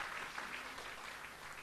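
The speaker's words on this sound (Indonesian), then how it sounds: "Mari berikan tepuk tangan." A church congregation at a Sunday service applauds, a soft, even patter of clapping heard faintly at a distance for a brief moment.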